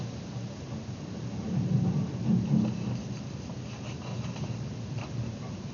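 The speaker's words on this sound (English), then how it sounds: "Thunder boomed and lightning flashed." Thunderstorm sound effect with a pirate-story setting: a low, continuous rumble of thunder with a swelling boom near the middle over a steady hiss of rain, moderately loud and alone.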